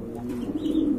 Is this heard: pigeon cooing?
yes